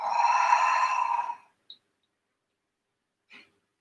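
During a yoga stretch a person lets out one long, deep audible exhale lasting over a second, followed by quiet and a couple of faint breath sounds.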